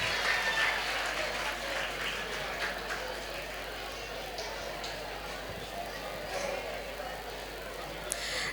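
An audience claps at a state-level World AIDS Day award ceremony as representatives of a district panchayat are invited up. The applause is a steady, fairly faint wash of many hands, recorded from a distance.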